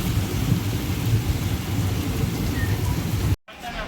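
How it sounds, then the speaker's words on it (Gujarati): Heavy rain falls near Siddhpur, a loud, steady downpour roar with a low rumbling undertone that cuts off abruptly near the end, followed by quieter background noise. "વરસાદ સારો એવો જામી ગયો છે."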